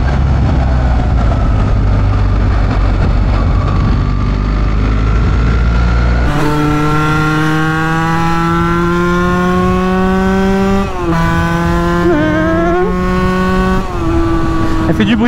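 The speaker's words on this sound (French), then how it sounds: "Elle fait du bruit quand même la bécane." A 50cc moped rides along a road, starting with a low, rumbling drone and wind noise. Then a loud, buzzy two-stroke whine rises and falls through gear changes, close and continuous.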